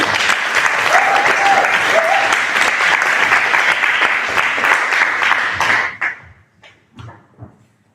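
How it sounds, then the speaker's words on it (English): Loud audience applause at a student common room meeting, steady clapping for several seconds that ends suddenly, followed by a few isolated knocks and shuffles. "round of applause to Jasper."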